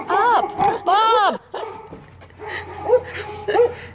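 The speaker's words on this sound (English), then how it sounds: "You going to edit all that barking out of there?" Dog barks repeatedly in a backyard, loud bursts with whiny yips, mixed with people talking nearby.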